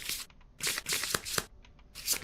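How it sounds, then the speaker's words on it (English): A deck of playing cards riffled and shuffled for a Kingdom Death board game session, several quick papery bursts close up with short pauses between them. "So we'll flip these, shuffle."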